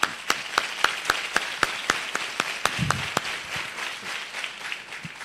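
A church congregation clapping hands in a steady, evenly spaced rhythm, loud and close, sharp claps repeating about three times per second with faint crowd murmur underneath.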